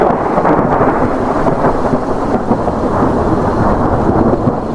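A heavy storm roars loudly and continuously, with rumbling thunder and rushing wind mixed with pouring rain in a dense, unbroken wash of noise.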